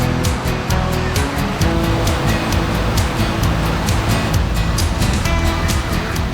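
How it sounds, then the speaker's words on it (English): Surf at Noosa Beach, Australia, washes in a steady broad roar, with waves breaking continuously and fairly close, alone without talk. "This is Noosa Beach"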